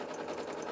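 A sewing machine stitching a quarter-inch seam on an apron, a soft, steady rapid whir heard briefly and close.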